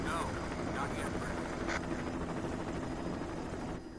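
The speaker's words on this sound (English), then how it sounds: "view shows a helicopter flying over a forest at night." A helicopter drones steadily over a forest at night in the video game Resident Evil, a loud continuous rotor rumble heard under a narrator's voice.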